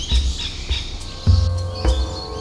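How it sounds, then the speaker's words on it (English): Birds chirp and tweet in the Gladstone rainforest, Australia, amid a dense, humid ambience, with several distinct calls rising at irregular intervals over a steady background of forest sound. "This place is home to hundreds of different bird species that you can hear right now."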